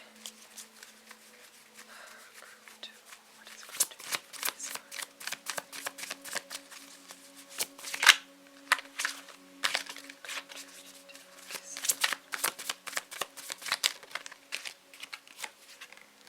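Tarot cards are shuffled close up, with soft, repeated riffling and flicking bursts in an irregular rhythm, interspersed with quieter handling and a few sharper snaps.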